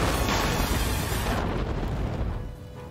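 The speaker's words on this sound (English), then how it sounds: "More explosions." Explosions in the Flash Point firefighting board game rumble through a dense, sustained roar of blasts that fades toward the end, with no speech.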